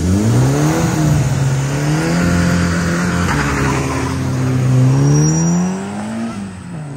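A Ford Ranger V8 5.0 truck revs hard at a race start, a loud continuous engine roar rising and falling in pitch through several throttle swells, close and alone.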